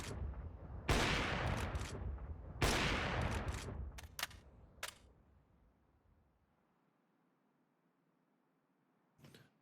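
A rifle sprayed in a dense burst of rapid gunfire on the dust2 map in Counter-Strike, loud and close, first a long stream and then a few sharp trailing shots. A short quiet tail follows, ending in one faint burst.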